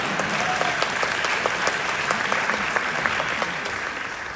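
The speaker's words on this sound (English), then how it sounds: "you can applaud for that" Audience applause at a 2025 election grassroots coalition meeting, dense steady clapping from a room full of people, close and fairly loud, tapering slightly toward the end.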